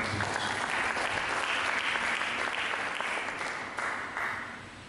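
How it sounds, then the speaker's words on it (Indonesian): A church congregation applauds during a sermon, broad steady clapping from many hands that stays full for about three seconds and then gradually thins and fades. "Dengan tepuk tangan"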